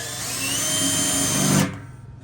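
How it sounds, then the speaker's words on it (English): A power drill with a 6mm bit whines at high speed for about a second and a half, rising slightly in pitch, then stops abruptly, drilling a hole to mount a bike repair stand to a workbench. "using a 6mm drill bit, same size as the hole"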